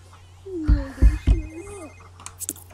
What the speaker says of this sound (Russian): У кого опять мобильный звонит